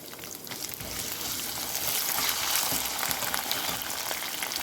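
Coconut pieces frying in hot oil for a chana curry, a continuous dense sizzling crackle that builds slightly and stays loud and close throughout, with no talking.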